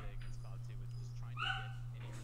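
Dogs barking and whining in short yips and whimpers over a steady low hum, fairly close, during a live esports broadcast commentary setting.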